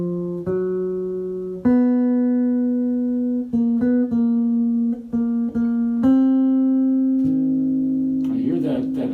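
A single sustained synthetic voice plays a barbershop tag, gliding through held chord tones with slight pitch bends before resolving, loud and close with no talking over it.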